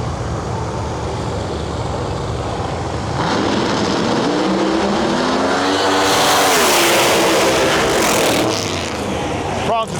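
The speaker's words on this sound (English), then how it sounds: "in our lane, Justin Swanstrom with a full carbon-bodied C7 Corvette" A screw-blown Pro Mod drag car, a full carbon-bodied C7 Corvette, thunders down the drag strip, its engine rising to a loud roar mid-pass before fading, with an announcer talking over the start.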